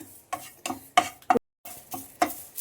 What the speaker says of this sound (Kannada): ಕರಿಬೇವು ಚೆನ್ನಾಗಿ ಹುರಿದಾಯ್ತು.